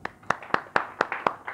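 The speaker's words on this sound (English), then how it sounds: "that statement itself deserves a round of applause" A small group claps hands in a quick, steady rhythm of sharp individual claps, close and moderately loud, in a finance class discussion.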